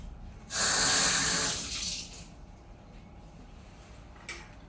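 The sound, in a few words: washing an avocado under running water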